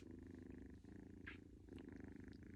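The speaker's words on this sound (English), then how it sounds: "He's a kitty cat. He's purring." A house cat purring up close, a steady low rumbling purr with rhythmic breathing pulses, continuous and soft, briefly broken by a faint rustle.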